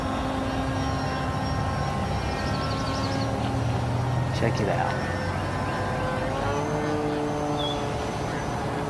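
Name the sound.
EPO RC seaplane flying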